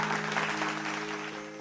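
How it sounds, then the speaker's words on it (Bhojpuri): An audience claps steadily at a Bhojpuri folk music reality show, a dense even wash of applause over a faint sustained musical tone, with no pauses. "जोरदार ताली बजा दे जा"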